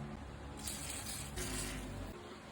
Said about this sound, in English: spray both clamps on both sides of the WD-40